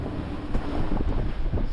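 Steady wind buffets the microphone aboard a sailboat at sea, a constant low roar with water sloshing underneath and no voices.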